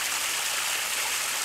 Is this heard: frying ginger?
no